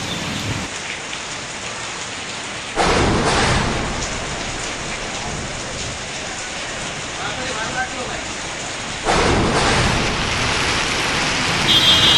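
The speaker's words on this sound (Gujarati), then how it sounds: "દ્વારકામાં કડાકા ભડાકા સાથે ધોધમાર વરસાદ વરસી રહ્યો છે" Heavy monsoon rain pours steadily over Dwarka during a thunderstorm, a dense continuous roar with two sudden louder surges that sound like thunder rolling in.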